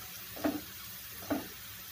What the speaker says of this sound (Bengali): তো একটু বেশি করে ফ্রাই করে নেব